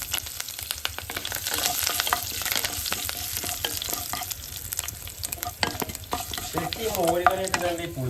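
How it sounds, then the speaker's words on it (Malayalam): Mustard seeds frying in oil in a pan for Kerala moru curry, a steady crackling sizzle with quick popping spatters and stirring scrapes throughout, a brief higher whistly tone near the end. "ചട്ടിയിൽ എണ്ണ ഒഴിച്ച് മോരുകറി ഉണ്ടാക്കാൻ കേട്ടോ. അപ്പോൾ കടുക്"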